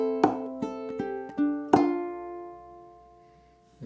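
A ukulele plays the fourth bar of a song: a few plucked and strummed chords in a short rhythmic figure, close and clear, with the last chord left ringing and fading before a light tap at the end.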